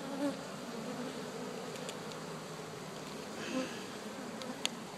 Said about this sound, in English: Then we got more bees here working.